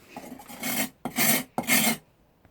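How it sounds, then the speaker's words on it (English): A plane iron's edge is dragged across a London house brick to blunt it, giving three close, gritty rasping strokes in a steady back-and-forth rhythm with brief gaps between them. "the first treatment, is to get a London house brick"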